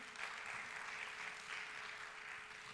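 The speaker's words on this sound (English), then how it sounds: "Let's give a big hand clap to the President." Conference audience at an African language association's opening ceremony claps for the president, a steady, dense wash of applause heard from a distance, fairly faint and unbroken throughout.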